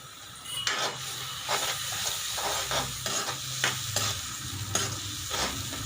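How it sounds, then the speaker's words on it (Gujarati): Tomatoes cook in hot oil for Kathiyawadi-style bhindi masala, giving a steady sizzle and hiss with repeated stirring scrapes and clinks of a spoon against the pan throughout. "તો અહીંયા ટમેટાને આપણે પકાવીશું। તો અહીંયા આપણે 2 થી 3 મિનિટ જેવું પકાવીશું, એમાંથી તેલ છૂટું પડે ત્યાં સુધી।"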